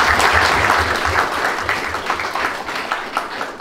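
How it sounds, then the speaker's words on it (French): A congregation applauding warmly at a church gathering welcoming Pastor Emmanuel Oschoffa in France, with sustained crowd clapping that thins slightly toward the end and a low rhythmic thump underneath. "Applaudissons encore pour ça."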